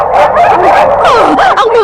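A cartoon dog yips and barks repeatedly in a rapid, loud, continuous run with whimpering tones, close and without talk.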